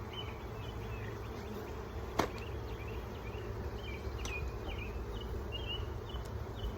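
Honeybees drone and buzz steadily around an opened hive during a spring split, individual bees zipping past close by over a constant low hum, with one sharp click partway through.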